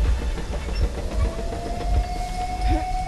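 A train rumbles past in the Metro Exodus video game, with heavy low rhythmic clickety-clack thumps and a steady metallic squeal running through it, loud and continuous, with no talking.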